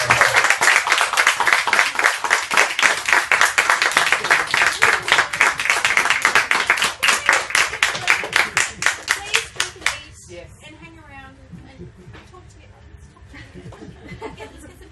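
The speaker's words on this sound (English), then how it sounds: "Round of applause for a horrible person." Audience applause at a book launch: a burst of rhythmic clapping with laughter and chuckles mixed in, loud for about ten seconds before fading out into quiet room noise.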